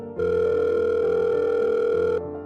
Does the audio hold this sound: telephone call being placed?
yes